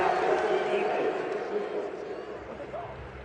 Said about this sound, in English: Oh, this crowd does not like that call.